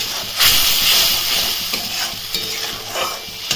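Spice masala with Kashmiri red chili powder fries in a pan with a loud, close hissing sizzle, interrupted by a few scraping stirs, with no voices.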